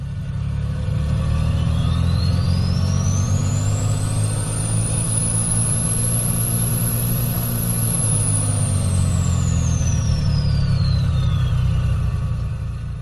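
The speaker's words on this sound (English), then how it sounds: "I'm going to rev the engine a little bit for you with the window open so you can hear the turbocharger sound." A Bonanza aircraft's piston engine in a flight simulator is revved from about 1700 RPM with the window open: a loud, steady low drone while a high turbocharger whine climbs, holds, then falls away.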